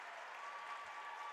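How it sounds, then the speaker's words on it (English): Steady applause from a crowd at a women's college basketball game, North Central College against Knox College, continuing evenly throughout without speech. "applauding the effort of her team"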